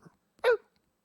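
A person's voice imitates a dog's bark with one short, loud, close woof standing alone amid near silence.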